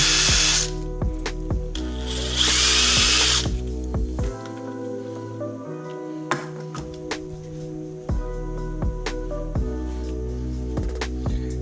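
A power drill spins bearings, whirring steadily with a high, tonal whine, its pitch shifting slightly through brief dips and surges.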